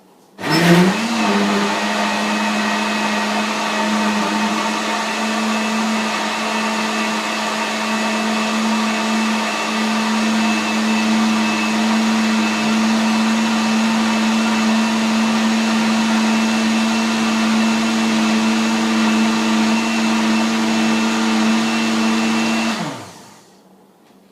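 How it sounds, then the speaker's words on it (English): A blender blending a green smoothie runs at full speed for over twenty seconds, a loud steady motor whine with a grinding edge, starting and stopping abruptly. "I just put it spoon and a half, and I'm gonna blend it."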